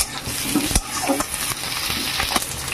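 Chilies sizzle loudly in a pan with potato and pointed gourd curry, a steady close frying hiss broken by several sharp scraping stirs of a spoon against the pan.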